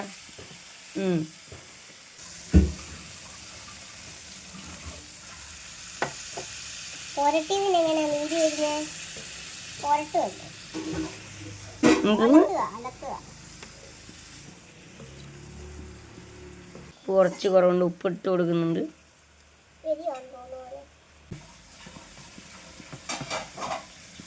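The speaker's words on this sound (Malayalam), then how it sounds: "എന്നിട്ട് നമുക്കിതിലേക്ക് കൊഞ്ചിനിടണം അല്ലേ ചെമ്മീൻ കൂട്ടനെ ചിത്തുവിൻ്റെ ഈ ഒരു മസാലക്കൂട്ടിലേക്ക് ആഡ് ചെയ്യാണ്" Prawns are added to a coconut-based masala in a pan and stirred, giving intermittent sizzling and scraping bursts between quieter stretches, with someone speaking in between.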